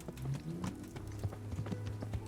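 Horses' hooves clip-clop in the medieval video game Kingdom Come: Deliverance, a quick string of close, distinct thuds in an uneven trotting rhythm over a low background hum.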